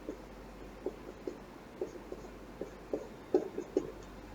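A pencil sketches on paper in a quiet room, leaving soft, close scratchy strokes in short irregular bursts, a few quick scribbles clustering toward the end.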